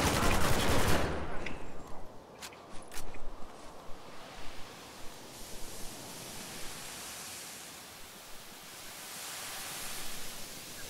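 Gunfire from the shooter video game Spec Ops: The Line in multiplayer: a loud opening burst, then a string of scattered sharp shots over a steady hiss of background noise.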